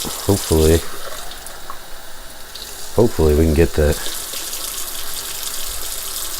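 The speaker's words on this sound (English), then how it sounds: "And then we pour off the excess." Excess water is poured out of a jar of soaking tomato seeds, making a steady splashing trickle throughout, with someone briefly speaking over it twice.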